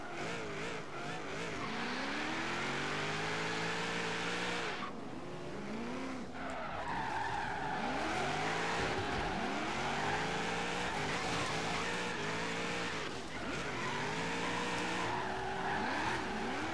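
Tires squeal and skid under hard braking in Forza Horizon 3, long wavering screeches repeating over a running car engine that rises and falls, loud and close throughout, with no voices.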